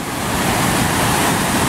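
Floodwater of the Coolumbuka River pouring over Bombala Weir during the 2014 flood, a dense, loud, unbroken roar of rushing water with no pauses.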